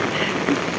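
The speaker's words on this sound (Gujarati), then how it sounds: "પવન વરસાદ આવ્યો છે તમે જોઈ શકો છો" Wind-driven rain falls steadily in Vejalka village, a brief, even wash of patter close by.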